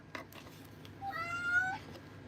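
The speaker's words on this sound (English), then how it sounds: "You guys hear my cat?" A pet cat meows once, a clear drawn-out call in a quiet indoor room, with a faint thump just before it.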